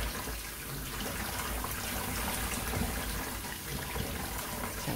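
Bean sprouts get rinsed under cold running water, giving a steady broadband gush of flowing water with no talking.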